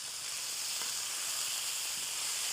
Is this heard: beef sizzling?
yes